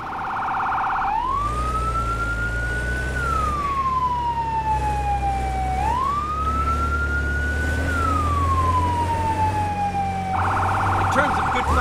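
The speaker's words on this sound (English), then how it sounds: "Siren." A fire truck siren in a firefighter simulator video game wails loudly and continuously, rising and falling in slow sweeps, with a rapid yelp burst at the start and end and a low engine drone beneath.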